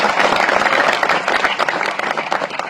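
A dense, sustained round of audience clapping at a religious discourse gathering, loud and close, continuing steadily throughout.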